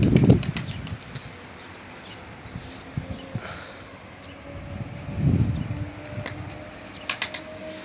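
A young Sabuni pigeon in flight training flaps its wings in two soft whooshing bursts near the start and middle, with scattered clicks and faint background noise and no speech.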